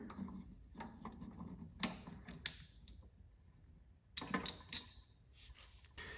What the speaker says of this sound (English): I'm loosening it first with a 3/8 wrench and then by hand.